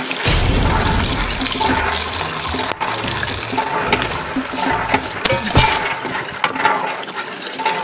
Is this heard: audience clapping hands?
no